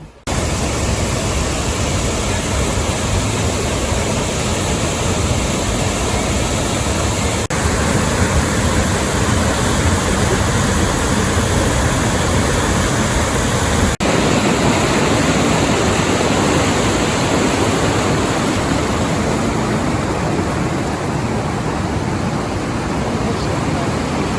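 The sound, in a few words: waterfall in Iceland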